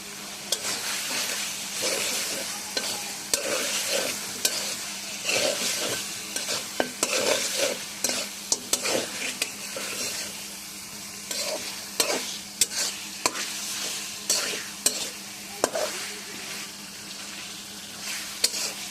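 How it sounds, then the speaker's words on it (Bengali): Pieces of goat meat sizzle steadily in a pan with spices while a utensil stirs them, giving frequent scraping clicks and knocks over the constant frying hiss, close by, with no talking. "মশলার সাথে সুন্দর করে মাংসটা মাখায় নেব, আর এটা সুন্দর করে কষায় নেব।"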